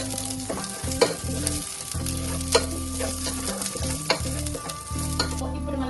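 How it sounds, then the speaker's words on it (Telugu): Chopped onions with green chillies fry hard in a pan for egg Maggi noodles, a loud continuous sizzle broken by repeated clanks and scrapes of a stirring spatula. "దీని తర్వాత మనం ఆనియన్స్ వేసుకుందాం. ఇది మనం మిక్స్ చేసుకుందాం."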